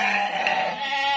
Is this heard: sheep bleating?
yes